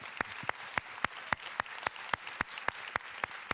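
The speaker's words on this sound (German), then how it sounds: "Dafür einen Applaus." Sparse, slow clapping from a small audience at a Bavarian Green party gathering, distinct individual claps at a steady rhythm, fairly close and unaccompanied by talk.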